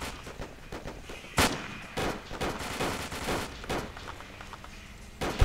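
An AT-4 anti-tank rocket fired with back blast in the military game ARMA 2: sharp, loud launch bursts cut through a constant crackle of distant small-arms fire, ending with another close blast.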